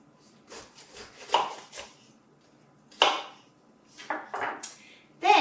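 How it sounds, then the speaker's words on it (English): A knife cutting the leafy top off a pineapple, heard as several close, crisp chopping and crunching strokes on a board, some in quick runs and others alone, with quiet gaps between; no talking. "The easiest way to do that is to cut the top leafy part of the pineapple off the fruit."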